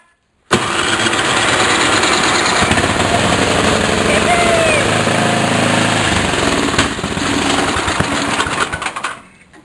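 An old snowblower engine cranks and catches, then runs loud and steady with a rough, chugging idle for several seconds before cutting off.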